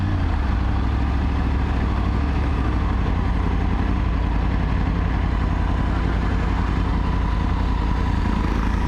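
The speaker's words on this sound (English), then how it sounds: "Hope you can hear the exhaust." A motorcycle idles steadily with a deep, gruff exhaust rumble that stays close and loud throughout, with no one speaking over it.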